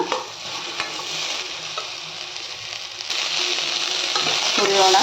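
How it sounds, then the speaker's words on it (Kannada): Okra fries in oil in a kadai with a loud, dense sizzle that swells noticeably halfway through, a steady close crackle broken only by faint stirring clicks. "ಬೆಂಡೆಕಾಯಿ ಚೆಂದಾಗಿ ಕೆಂಪಾಗೋ ತನಕ ಹುರಿಯೋಣ"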